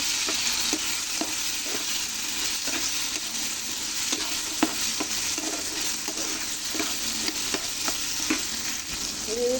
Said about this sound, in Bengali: এভাবে আমি ভালো করে কষিয়ে নেবো কারণ গরম জলগুলো ভালো করে সিদ্ধ হতে হবে